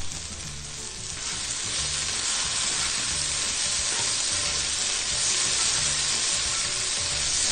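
Dried red chilies fry in hot oil with a loud, steady sizzle that holds evenly from start to finish, with no voices.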